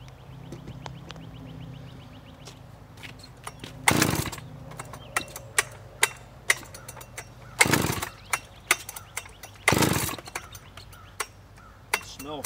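A newly unboxed big chainsaw being started outdoors: three sharp, loud pull-cord yanks spaced a few seconds apart, with small clinks and handling noises in between over a quiet background.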